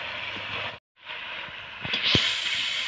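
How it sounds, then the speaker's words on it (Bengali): Cauliflower and potato sautéing in hot oil give a steady, close, hissing sizzle that cuts out briefly, then returns with a couple of soft stirring knocks. "ফুলকপি আলুটা খুব সুন্দরভাবে আমি কষিয়ে নিচ্ছি।"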